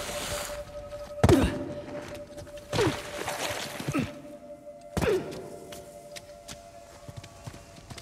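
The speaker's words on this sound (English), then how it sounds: "Persians must have had a trebuchet." Trebuchet projectiles striking in the video game Uncharted: The Lost Legacy, heard as three heavy thudding impacts spaced a second or two apart, each trailing off into rumble over a steady low tone.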